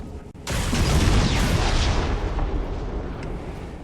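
Explosive charges detonated inside a Qunari mining operation in the game Dragon Age Inquisition, one loud, sudden blast followed by a long rumbling roar that slowly fades.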